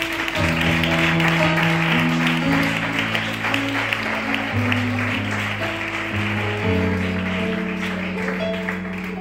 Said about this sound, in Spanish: Dale este aplauso al Señor.